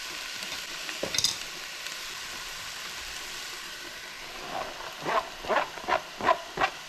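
Ground meat and onion sizzle softly in a pan for lasting lasagna prep, followed by a rhythmic series of five or six scraping stirs near the end; no voices.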